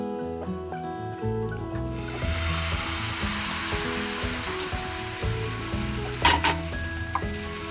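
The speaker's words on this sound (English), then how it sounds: "the pans are searing hot, so I'm totally set for making pancakes." Pancake batter sizzles and fries steadily in a searing hot pan, a continuous close crackling hiss with a brief louder spit near the end, under soft background music.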